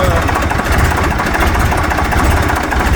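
A machine engine, compared to a tractor, runs with a loud, rough, knocking rumble close by, steady and continuous throughout.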